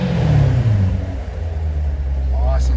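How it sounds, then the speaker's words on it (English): A 2017 Corvette coupe with automatic transmission revs outside the car, its exhaust rumbling deep and loud close by, rising and falling slightly, while someone speaks over it. "Here we are for the exhaust note."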